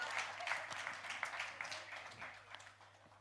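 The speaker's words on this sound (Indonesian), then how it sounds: "Tepuk tangan untuk keluarga Purnomo." A church gathering gives faint, scattered applause for a family, soft uneven claps from a modest group that fade slightly toward the end.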